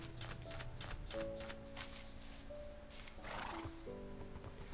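A horse in a blocky survival video game whinnies and neighs repeatedly at close range while its hooves clip-clop, over a low, continuous game backdrop.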